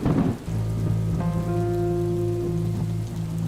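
Steady rain falls in a dense, even hiss, loud and close, and low rumbling thunder hangs under it for a few seconds with no voices.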